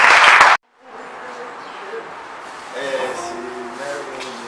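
A church congregation at a French-language healing service applauds loudly in a dense burst that cuts off abruptly, then the room settles into low murmuring and voices.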